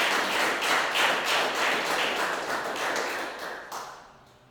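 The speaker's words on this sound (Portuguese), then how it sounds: "Tem palmas para Deus?" Church congregation applauding in praise of God, a dense wash of many hands clapping steadily for several seconds before fading out toward the end.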